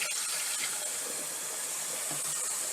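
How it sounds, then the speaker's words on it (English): Warm water streams steadily from a tap, a constant close hiss and splash with no talking. "we're going to turn the water on"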